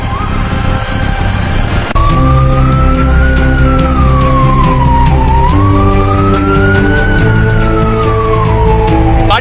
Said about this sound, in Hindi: देखो आगे पुलिस की गाड़ी जा रही है।